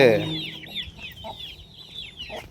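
Native chickens cluck and cheep softly nearby, with high chick peeps running throughout and a few low clucks, after a brief louder sound at the start.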